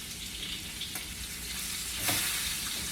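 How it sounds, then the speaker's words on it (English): A steak sizzles in a hot pan just after being flipped, a continuous close frying hiss with a brief louder crackle burst near the end, no voices. "Now we can flip our steak."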